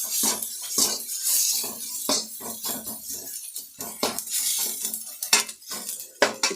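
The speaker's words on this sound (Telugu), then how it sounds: "కారం పొడి వేసుకుంటా. కొంచెం ఈ పచ్చి స్మెల్ పోయే వరకును బాగా వేయించుకోవాలా." Tomato frying with chili powder in a pan, with repeated metal clinks and scrapes of a stirring utensil over a light sizzle, close and fairly busy, no voices.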